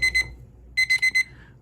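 A kitchen-style timer alarm rings in two bursts of rapid, bright electronic beeps, one short pair and then a longer run of four, loud and close.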